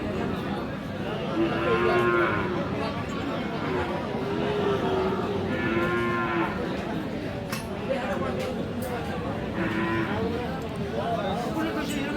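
Friesian and crossbred bull calves moo repeatedly at the Aftabganj livestock market, with several long, loud lowing calls heard over a busy crowd.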